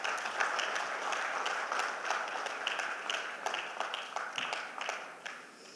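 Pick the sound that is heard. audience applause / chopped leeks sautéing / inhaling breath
audience applause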